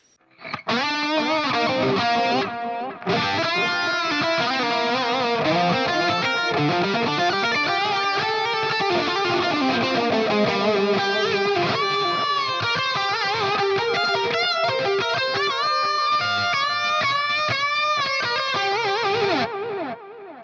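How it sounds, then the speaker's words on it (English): A distorted electric guitar through a NUX Tape Core Deluxe delay pedal plays a sustained lead melody drenched in echoing repeats, notes blurring into one another, loud and continuous with a brief gap early on. "that is a lead delay sound that I'm really happy with"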